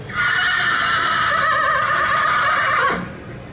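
A horse at a polocrosse carnival lets out one long, loud, close whinny that lasts nearly three seconds and then cuts off, with faint ambient noise after.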